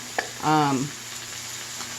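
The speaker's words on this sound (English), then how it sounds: "So all this is going in the frying pan." Chicken frying in a pan for a keto spicy stir fry, a soft continuous sizzle with a brief louder whooshing burst early on, no talking.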